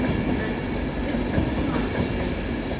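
A six-coach train at Doncaster station gives a steady, loud rumble of wheels and carriages with faint clickety-clack, continuous throughout with no voices.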